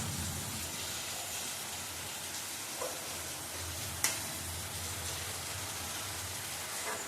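Chana dal halwa being stirred steadily in a pan, a soft continuous sizzle and scraping with a couple of brief clinks, fairly even and moderately quiet throughout.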